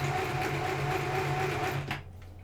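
A sewing machine runs steadily for about two seconds, stitching backward and forward on a homemade Halloween costume with sleeves, with a loud continuous motor whir that stops abruptly near the end.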